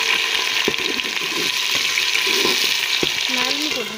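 Onion-tomato masala sizzles steadily in a pan as chili is stirred in, with a few soft scraping knocks of the spoon over the continuous frying hiss; no one speaks.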